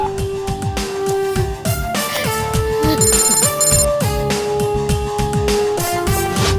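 A telephone rings loudly and continuously with a bright electronic melodic ringtone, a DGP hotline call coming in at a police office, the looping tune filling the whole stretch with no voices over it.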